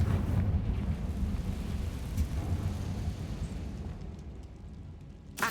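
A Confringo fire spell in Hogwarts Legacy goes off as a deep, rumbling blast that rolls on and slowly fades over several seconds, heavy in the low end, followed by a brief sharp crack at the very end.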